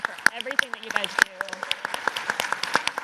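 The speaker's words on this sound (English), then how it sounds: "I just want to give them a round of applause." Scattered clapping from an audience at the HOPE Global Forums 2024 conference. A voice is heard briefly at the start, then sharp, separate claps keep going at a fairly even pace.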